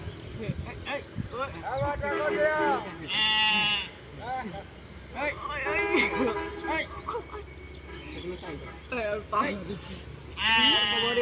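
A castrated male goat bought for Eid sacrifice bleats repeatedly, loud and close, in several wavering cries spread through the clip, with people talking in between.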